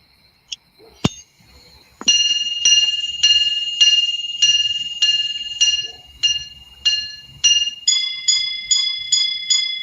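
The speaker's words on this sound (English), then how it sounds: "yearning or mesmerizing to hear the sound of the chime" A luxury chiming wristwatch, held close to a microphone, rings a clear bright strike series: a few low-pitched strikes, then paired tones, then a faster run of higher chimes, each ringing out and fading.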